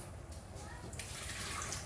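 Water poured into a soup pot of tomatoes and blended onions, rinsed from a blender, while cooking soup to go with tuo zaafi; a soft continuous pouring and splashing wash that brightens partway through, fairly quiet throughout.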